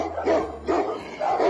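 A Tibetan Mastiff gives three deep, rumbling barks close by, each a heavy booming woof spaced roughly half a second apart over a low background hum.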